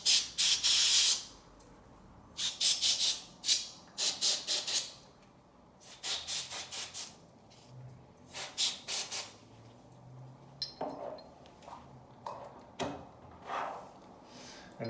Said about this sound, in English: We'll just get in there and give that a good spray.